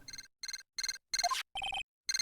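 A transceiver rings in the Phoenix Wright Ace Attorney video game as a series of bright electronic ringtone bursts in a regular rhythm, each burst made of rapid beeps, clear and alone.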